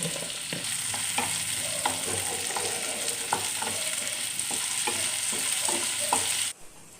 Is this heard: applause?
no